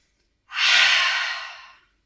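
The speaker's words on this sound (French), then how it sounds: "Inspire par le nez. Expire par la bouche." A single slow breath drawn in through the nose and let out through the mouth during a yoga session, soft, close and airy, lasting just over a second with no talking.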